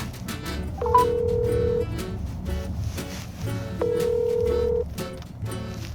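A telephone ring tone plays twice, each a steady tone of about a second separated by a pause, fairly loud over a busy room murmur.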